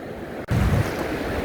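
Sea waves washing onto the shore near Whitby, a soft rushing surf that swells briefly into a louder splash, with wind noise and no voices.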